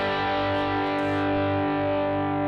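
An electric guitar played through a Fender amp simulation in Amplitude 5 rings out as a sustained, distorted chord, thick and steady for the whole stretch with no talking.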